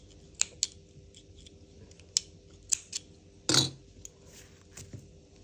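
Scissors snip through crochet yarn after a crocheted bag body is finished: one crisp, close cut stands out among a few faint handling clicks in an otherwise quiet room.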